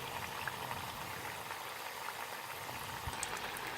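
Onion bhajis fry in oil over medium-high heat, a steady, soft bubbling sizzle with faint pops, continuous and quiet with no talk.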